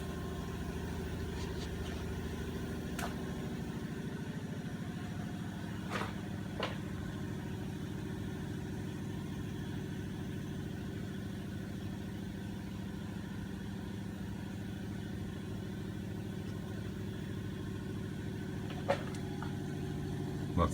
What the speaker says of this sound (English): Now I'm going to turn the smoke tester on